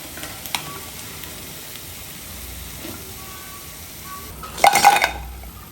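Rice-flour nuniya pitha frying in hot oil give a steady low sizzle throughout, with a few clinks of utensils and a louder burst of bubbling and scraping near the end as the pieces are turned or lifted.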